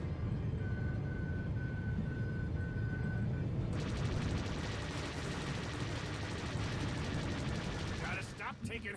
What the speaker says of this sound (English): Let me use my missiles.